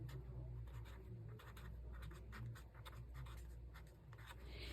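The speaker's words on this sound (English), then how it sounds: "we will go ahead and write on this, immutable" A pen writing on a small Post-it note tab, producing faint, close, irregular scratchy strokes in quick succession over a low background hum.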